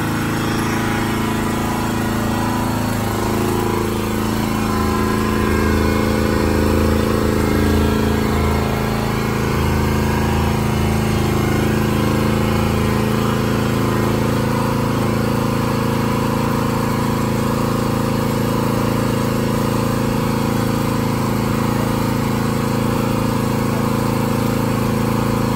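Steady engine of a vehicle working a trailer through a backyard gate during a new Lowe's shed delivery, droning continuously and fairly loud at close range with no talk.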